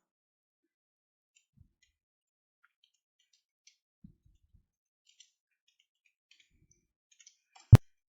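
Keys tapped on a computer keyboard during data entry in Tally accounting software: a few faint, sparse clicks in near silence, then one loud, crisp Enter key press near the end.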